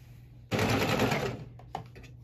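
Sewing machine stitching fabric through a 90° turn, running in one loud, close, rapid whirring burst of about a second before stopping, followed by a few quieter mechanical clicks.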